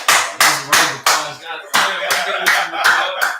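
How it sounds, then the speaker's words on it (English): Audience clapping at a religious gathering of the Israelite School of Universal Practical Knowledge, loud, close, rhythmic claps in a steady beat, with voices talking and calling out over them. "If y'all don't mind, clap it up for me."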